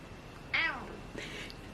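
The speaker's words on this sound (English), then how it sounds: "Her wake up from nap meows are so funny." A cat just awake from a nap lets out two short, close meows in a quiet room, the first rising and clear, the second softer and shorter.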